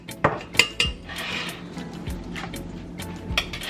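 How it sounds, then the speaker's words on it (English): A metal spoon stirs Better Than Bouillon seasoning into a pot, giving several sharp clinks and scrapes against the pot with wet stirring between, close and fairly loud, with no speech. "Just stir that in."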